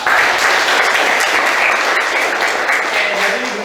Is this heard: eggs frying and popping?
no